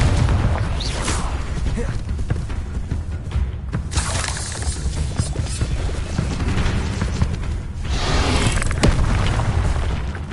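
Confringo blasting spell explosions from the Hogwarts Legacy video game, loud dense booms and shattering bursts in rapid succession, layered with game effects, continuous and close throughout.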